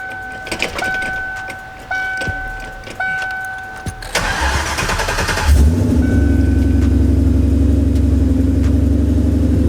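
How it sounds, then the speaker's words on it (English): A cammed Ford Mustang engine with a new exhaust cranks in short bursts with a chiming alert, then catches and settles into a loud, deep, lumpy idle rumbling steadily up close. "The car sounds so good. The new exhaust."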